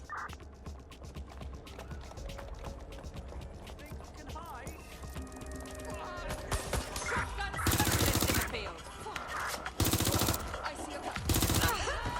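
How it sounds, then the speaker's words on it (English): Bursts of gunfire in the video game Watch Dogs: Legion, several loud, dense volleys crackling over a busy game soundtrack in the second half. "Shots fired! This is a nightmare!"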